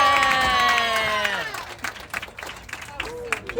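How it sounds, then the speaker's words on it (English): Festive Christmas train ride crowd reacts with a brief burst of cheering and clapping mixed with children's voices and singing tones, loud at first, then fading into scattered claps and chatter. "let me hear your Christmas clap"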